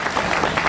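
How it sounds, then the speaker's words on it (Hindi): An audience at a Hindi poetry gathering at a fair claps in a brief, dense burst of applause, loud and close. "ताली बजा दीजिए।"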